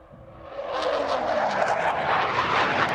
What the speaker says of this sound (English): the famous Hunter Blue Note, the wine that the bigger-engined Hunters like this F6A model produce when they get up to a bit of speed